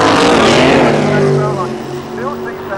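Dragsters at a 1990 Santa Pod drag race creep forward into stage, a loud steady engine rumble with harmonic drone under a commentator's continuous talk, fading slightly toward the end.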